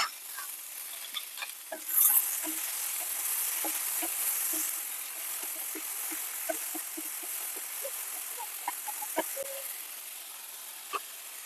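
Food seasoned with salt is stirred in an Amway cookware pan with the lid opened, giving soft scraping strokes over a faint sizzle and one brief louder clatter near the start.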